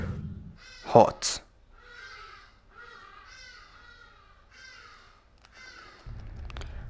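Birds cawing in the game Superhot: a series of harsh, crow-like calls at moderate level, with a loud burst early on and talk over part of the sound.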